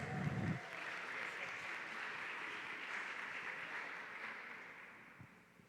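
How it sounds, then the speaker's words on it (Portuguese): Steady applause from an audience greeting a couple called up at an event, a continuous wash of clapping that tapers off toward the end. "uma salva de palmas para eles."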